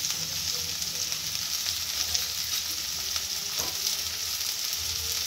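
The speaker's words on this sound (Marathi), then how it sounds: "आता आपण कांदा टाकूया। कांदा पण चांगला लाल होईपर्यंत टाकूया।" Onions fry for a toor dal varan, a steady, close sizzle and crackle of hot oil running unbroken throughout, with a faint scrape partway through and no voices.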